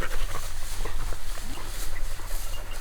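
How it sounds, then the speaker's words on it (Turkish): Hunting dogs panting close by in a field at the opening of a quail season, rapid breathy puffs with rustling movement and footsteps, a voice talking faintly in the background. "Köpekler tabağa giriyorlar."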